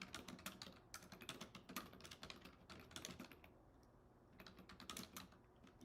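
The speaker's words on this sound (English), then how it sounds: "I think I'm literally gonna have to type this." Rapid, irregular clicking of fingers typing on a computer keyboard, close and clear, in bursts with a short lull near the end and no talking.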